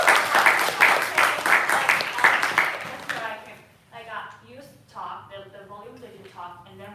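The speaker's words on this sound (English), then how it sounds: "first of all, round of applause." Applause from an audience at a society showcase performance, dense clapping loud for about three seconds, then fading out as a voice talks over the dying claps.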